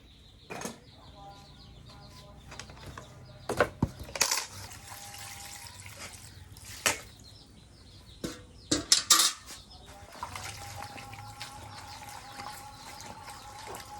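Cut taro (kochu) being washed in a metal pot, water sloshing and trickling with irregular clinks and knocks of pieces against the pot, close by and fairly quiet.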